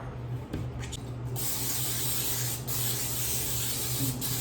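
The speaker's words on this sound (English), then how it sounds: "spray the cooking oil in the pan" A steady, close hiss of aerosol cooking oil spraying into a cast iron pan runs for several seconds without a break.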